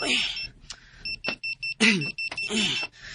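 A high, pulsing electronic alarm clock beeps in quick repeated bursts, with a person talking loudly over and between the beeps.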